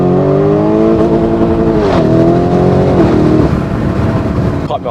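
Lamborghini Urus in Corsa mode heard from inside with the window partly down, its engine droning loud and rising in pitch under acceleration, then easing off near the end.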